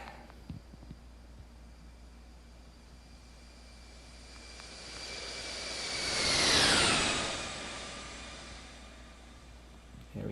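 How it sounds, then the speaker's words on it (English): Jet airliner flyby departing Bari in the Infinite Flight game, a roar that swells from a quiet hum to a loud whooshing peak and fades away, with no voices. "Let's go ahead and get a flyby as we depart out of Bari."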